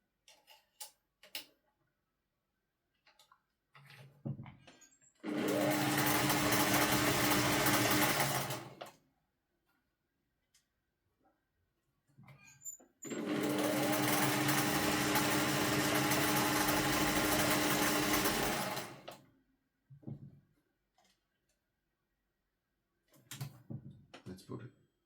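A Singer 401 sewing machine runs in two long steady bursts of fast, humming stitching, close and loud. Between them come short clicks and handling sounds as it is adjusted while its tension problems are worked on, and someone talks in the gaps.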